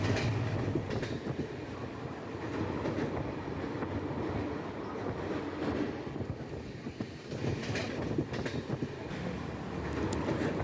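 A long-distance passenger train from Kolkata to Mathura rolls along the tracks near Prayagraj, a continuous loud rumble with rhythmic wheel clatter and occasional squeals, heard from on board with no talk.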